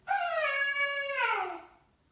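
A hungry, restless dog lets out one long whining howl that slides downward in pitch, close and clear, lasting about two seconds before fading to silence, with no voices over it.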